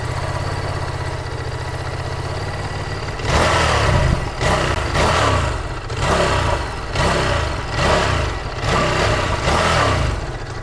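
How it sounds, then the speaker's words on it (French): A Ducati Multistrada V2S with its V2 engine idles with a low, steady rumble, then is revved in a series of loud, repeated throttle blips that fall back between each burst. "je te fais écouter le son de la moto"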